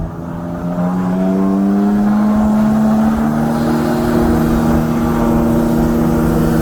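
A 2020 BMW M340i and a 2016 BMW M3 roar steadily and loudly in a roll race, engine pitch climbing gradually as they accelerate hard together, with no talking.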